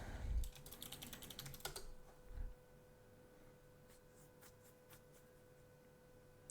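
Fingers clatter on a computer keyboard in a quick burst of keystrokes, then trail off into a few sparse clicks over a quiet hum.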